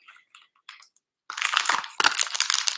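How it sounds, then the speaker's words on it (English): A dog crunches dry star- and Christmas-tree-shaped advent calendar treats close up: a few small clicks, then a loud burst of dense, gritty chewing and crushing lasting over a second. "You can probably hear her crunching."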